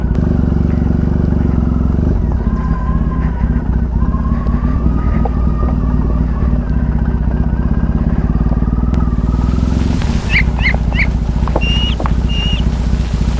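A motorcycle on a ride toward a waterfall gives a loud, close, unbroken engine drone with a steady throb, and brief chirps rise over it near the end.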